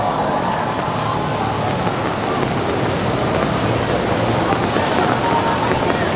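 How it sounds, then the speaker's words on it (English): Heavy rain pours over an outdoor volleyball match, a loud dense steady roar that fills the whole stretch with no pauses. "rain gets too out of hand."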